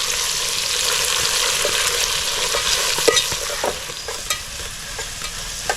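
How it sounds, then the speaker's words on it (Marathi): Green chilies and onion softening in hot oil in a pan for a green-masala pea rice dish, a steady bright sizzle throughout with occasional soft stirring clicks, close and fairly loud, no speech. "आता टाकूया हिरवी मिरची आणि लगेचच कांदा आणि कांदा आपल्याला थोडासा नरम करून घ्यायचा आहे"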